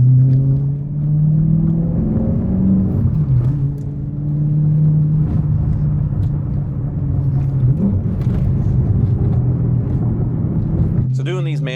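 A manual-swapped Mercedes CLK 63 Black Series driving, its engine droning steadily and loudly from inside the cabin with gentle swells in revs, then a sharper burst at the very end.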